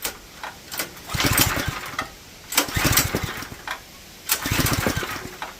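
A lawn tractor go-kart engine converted to run on propane cranks in three separate bursts of rapid chugging, each lasting about a second and separated by quiet gaps, close and loud with no talking.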